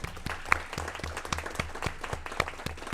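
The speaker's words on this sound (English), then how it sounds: "Let's give him one more round of applause." Modest applause at a board of education meeting, a small group clapping with sharp individual claps audible over a room hum.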